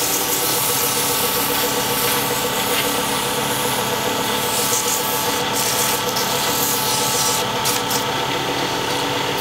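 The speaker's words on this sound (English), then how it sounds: "Now the sandpaper I'm using is the Klingspor Clothback J-Weight sandpaper" Klingspor cloth-backed J-weight sandpaper rubs against a wooden wine stopper, likely spinning on a lathe, in a loud, continuous, hissing scrape that holds steady throughout at close range.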